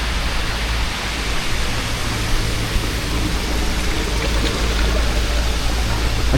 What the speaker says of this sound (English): I do like the sound of running water.